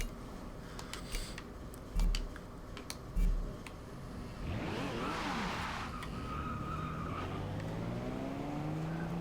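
A 1995 Toyota Supra RZ accelerates in Forza Horizon 2, the engine note rising and sweeping upward over several seconds and holding loud and steady after a few brief bumps.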